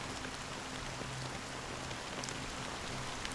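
Fine drizzling rain in the Honkai: Star Rail video game makes a steady, even hiss, with a faint low tonal hum running beneath it and no voices.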